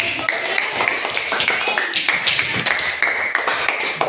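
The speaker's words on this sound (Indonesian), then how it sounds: "Tepuk tangan yang sudah menyimpulkan hari ini." Classroom students clap together in a lively burst of uneven, overlapping hand claps that continues steadily, loud and close, with no talk over it.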